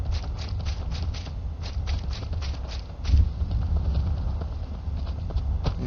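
Horse hooves clip-clop steadily in Skyrim, a regular walking rhythm of soft thuds under low ambient game background, fairly close and even throughout.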